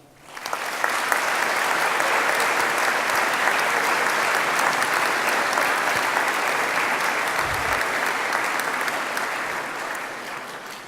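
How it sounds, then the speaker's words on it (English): A large graduation audience at an NTU ceremony bursts into applause, swelling quickly after a quiet start and holding as sustained, full crowd clapping before tapering slightly at the end. "please join me in a round of applause to thank all of those who've"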